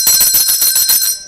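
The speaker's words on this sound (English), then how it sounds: "where's my bell?" A bell rung by a show host rattles on rapidly and continuously, a bright, loud ringing with steady pulsing strokes that cuts off abruptly near the end.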